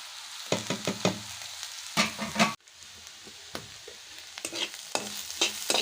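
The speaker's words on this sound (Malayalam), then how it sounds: "ഉള്ളി നന്നായിട്ട് വഴണ്ട് വരാൻ തുടങ്ങിയിട്ടുണ്ട്" Onions with a crushed paste of ginger, garlic, fennel and cardamom sizzle in a pan, with repeated scraping stirs over a soft steady frying hiss for kakka ularthiyathu.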